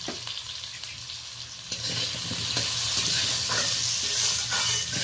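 A vegetable curry with salt and turmeric fries in mustard oil, giving a close, continuous sizzle and hiss with occasional stirring clatter that grows louder partway through.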